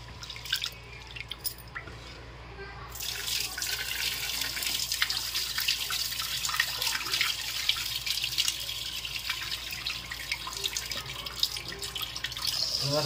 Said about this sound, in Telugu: బాస్మతి రైస్ ఎక్కువ కడుక్కోవాల్సిన పడలేదు.